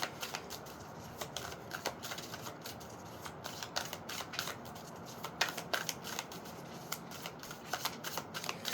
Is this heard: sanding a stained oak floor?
no